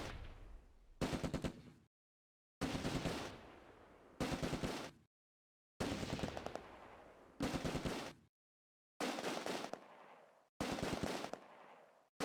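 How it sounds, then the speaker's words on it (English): Stuart light tanks in the Close Combat video game fire machine guns and cannon in repeated dense bursts of crackling fire and bangs, split by sharp gaps of silence. "Both Stuarts are now pouring machine gun and cannon fire into the farmhouse precinct"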